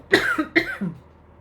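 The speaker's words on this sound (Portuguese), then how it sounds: "Ai, tossi, desculpa." Two or three close coughs in quick succession, moderately loud, followed by a softer throaty tail, with no talking.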